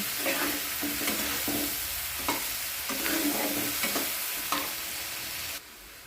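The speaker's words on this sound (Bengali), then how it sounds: "আদা রসুন বাটা আর পেঁয়াজটা ভালো করে" Chopped onion and ginger-garlic paste sizzle in hot oil for a pointed gourd korma, with a rhythmic series of close spatula scrapes and stirs; no talking.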